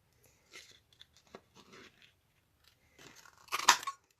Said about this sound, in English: grab that glimmer paper again and my balloon punch